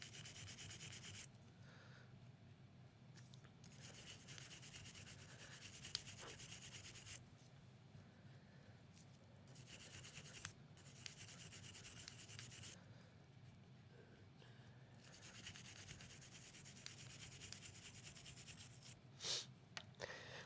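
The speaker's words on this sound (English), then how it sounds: "give the front of the cylinder a real good scrubbing" A brush scrubs the front of a Taurus Raging Hunter revolver cylinder with solvent, a faint continuous bristly rubbing in back-and-forth bursts, close and steady with brief pauses.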